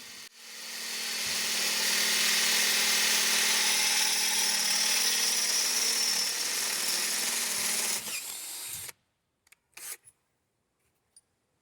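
A power drill bores out pilot holes in a metal plate to fit bolts for a kit car build. It gives a steady, loud whine for about eight seconds, then stops, and a few short clicks and knocks follow.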